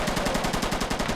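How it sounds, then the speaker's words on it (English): Rapid automatic gunfire rattles out in the military shooter Squad, a steady burst of about a dozen evenly spaced, loud close shots with no voices over it. "And Makai throws some rounds up."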